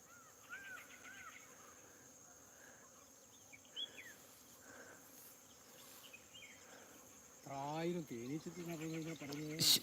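A steady, faint hum of many honeybees buzzing over a sesame field fills the background, with brief chirps and a voice speaking near the end.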